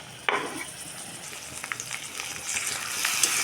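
Onions and green chilli paste fry in hot oil for a potato and pea curry, a steady close sizzle with occasional sharp crackles and pops, rising slightly toward the end, with no talking.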